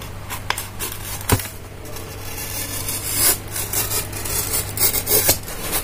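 Close scraping and rasping as a cutter knife slices through soft foam for an RC plane wing, in short uneven strokes with a few sharp clicks and a steady low hum behind.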